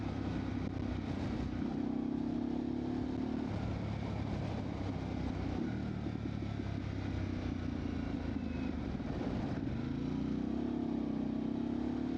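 Harley-Davidson Pan America motorcycle accelerating, its engine drone rising steadily in pitch with steady wind buffeting throughout, heard from the rider's helmet position without talk.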